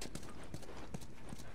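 Horse hooves clip-clopping in the video game The Last of Us, a steady rhythmic run of soft thuds at moderate distance under a low background bed.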